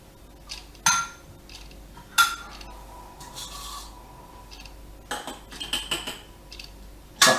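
A spoon scrapes the last of the cream from a bowl in several short, close rasping strokes with small clinks, and quiet gaps between the bursts.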